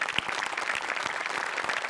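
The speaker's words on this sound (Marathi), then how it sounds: "कॉस्ट्युम डिपार्टमेंटसाठी एकदा जोरात टाळ्या होऊन जाऊ देत" Audience applause for the costume department on a Marathi comedy stage show, dense rapid clapping from a crowd, steady and loud throughout the short stretch.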